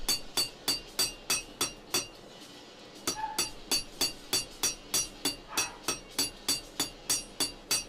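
Cross peen hammer blows ring out on a blacksmith's borax spoon, sharp metallic strikes in a steady rhythm of about three per second, close and loud, with a brief pause partway through before the hammering resumes.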